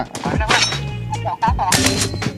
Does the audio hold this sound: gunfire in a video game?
yes